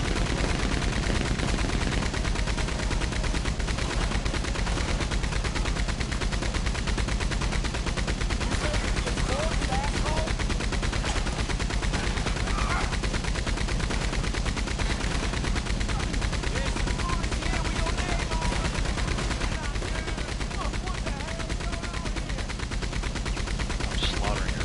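Continuous gunfire from the Red Dead Online video game, a dense, steady barrage of shots filling the whole stretch at a loud, even level with a muffled voice now and then underneath.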